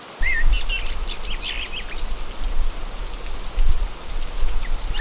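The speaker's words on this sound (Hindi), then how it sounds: "अगली सुबह जब वो लोग उठे तो हल्की हल्की बारिश हो रही थी, जिसे देखकर गीता ने कहा" Light rain patters steadily in a Hindi cartoon story about a poor family in the cold, a soft continuous hiss with low thumps, while several short chirping bird calls sound near the start.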